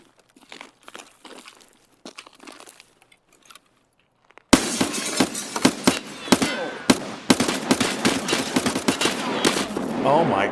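Rapid automatic gunfire from the video game Escape from Tarkov breaks in halfway through. Loud, dense bursts of shots with clinks and crackles follow quieter scattered clicks and movement.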